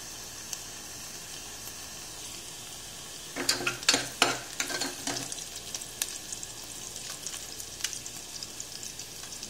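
Chopped vegetables hit a pan of browned onion with a sudden loud sizzle, followed by scraping stirs and a settling, steady frying crackle, close and without talk.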